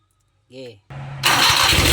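A motorcycle with a repaired ignition coil starts on a single press: a short whir of the starter, a brief pause, then the engine catches and settles into a steady, close idle.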